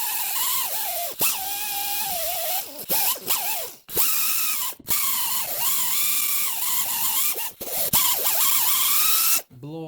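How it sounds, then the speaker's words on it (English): A grinder works the hub mating surface of a 2016 Subaru Impreza during a wheel bearing replacement, letting out a close, high whine in repeated bursts with brief pauses, its pitch sagging as it bites. "Continue grinding on the mating surface."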